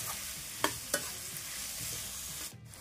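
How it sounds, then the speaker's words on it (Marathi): Onion browning in a pan for egg gravy, frying with a steady low sizzle while a utensil stirs and scrapes it, two sharp clinks standing out near the start, close by with no talk. "आपल्याला हा कांदा व्यवस्थित ब्राऊन होईपर्यंत भाजून घ्यायचा आहे"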